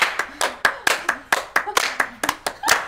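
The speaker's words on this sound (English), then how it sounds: "Okay, everybody clap your hands." A group claps hands together in a quick, uneven rhythm, sharp near claps repeating roughly every quarter second, with voices speaking between the claps.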